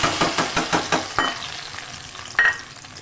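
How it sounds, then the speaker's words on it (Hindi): Ground onion, tomato and green chili paste hitting hot oil for a beef kebab gravy, a series of rhythmic stirring scrapes over sizzling, then a quieter hiss and one more sharp scrape near the end. "ये सब डाल के ग्राइंड कर लिया और अब मैं इसे ऑयल में डाल"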